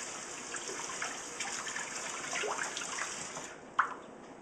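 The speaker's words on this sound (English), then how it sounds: "I got the sink next to me, so let me rinse off this the food here on the blade." Water from a kitchen sink tap runs over a knife blade as food is rinsed off, a steady close splashing stream with a brief sharper splash near the end.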